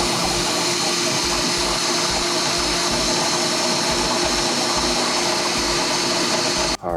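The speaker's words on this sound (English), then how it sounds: "I did send the Luffy figure to the printer, and we'll see how it turns out" A Bambu Lab P1S 3D printer prints a figure, giving a steady mechanical hum with a regular pattern of low pulsing motor thrums, close and constant, until a brief dip near the end.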